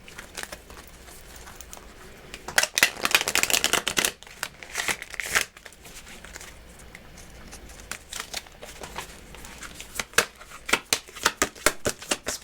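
Tarot cards being shuffled by hand, bursts of crisp riffling and flicking at close range, clustered in rapid runs with short pauses between, no talking.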